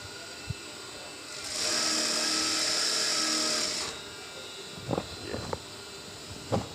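An electric sewing machine runs a continuous seam on palazzo pants for about two seconds with a loud, even whir, then stops. A few soft clicks and handling knocks follow.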